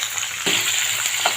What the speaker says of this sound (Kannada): ಈರುಳ್ಳಿ ಹಾಕ್ಕೊಳತ್ತೀನಿ